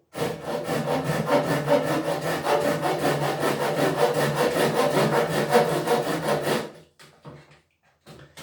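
Hand saw making a series of small cuts in wood for a diddley bass body, a steady fast rhythm of close, loud rasping strokes that stops abruptly, followed by faint handling sounds.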